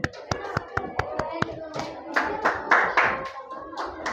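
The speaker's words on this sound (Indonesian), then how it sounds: "Oke, kasih dulu tepuk tangan" Children in an Indonesian classroom clap their hands in a quick rhythmic run of sharp claps that loosens into rougher, overlapping clapping. Young voices chatter faintly underneath.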